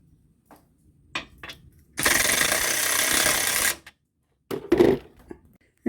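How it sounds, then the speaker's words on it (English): A power tool driving a T50 Torx socket to remove a bumper bolt on a Jeep Comanche MJ, a loud buzzing burst of about two seconds, with brief rattles and clanks of metal before and after. "what we're going to need here is a T50 torque socket, and to remove this bumper bolt right here"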